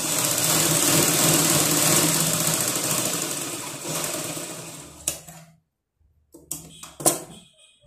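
Sewing machine stitching a folded fabric strip, a steady whirring motor run that slows and stops, followed by a few short stitching bursts and clicks.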